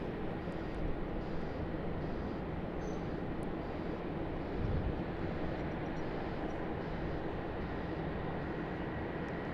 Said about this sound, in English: Vacating left, heading over to Terminal 1 here at Sydney Airport. The Asiana Airbus A350-900.